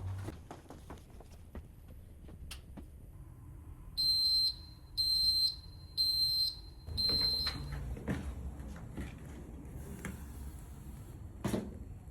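A shrill wireless smoke detector, set off with test smoke, beeps four times in steady, evenly spaced bursts, close by, with faint handling clatter before and after.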